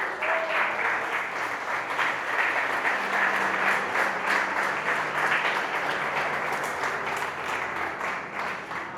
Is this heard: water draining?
no